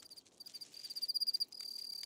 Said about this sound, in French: les mâles stridulent pour séduire les femelles en frottant leurs élytres l'un contre l'autre